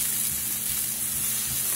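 Shrimp, scallions and scotch bonnet pepper sizzle steadily in a hot pan, a close, even hiss with no talking.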